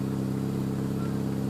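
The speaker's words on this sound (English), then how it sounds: "It just sounds like a purring." Renault Clio engine idling, a steady low hum with a smooth, even purr, heard up close and fairly quiet with no voices.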